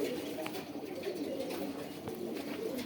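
Khoyra pigeons cooing softly in a loft, low murmuring coos repeating over a steady faint background hum, fairly distant and quiet, with no talk.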